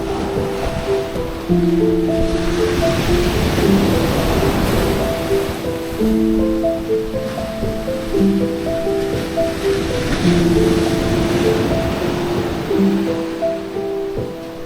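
Sea waves roll in against the rocky shore of Devghali beach, a loud, continuous wash of surf with a steady roar, overlaid by musical tones throughout.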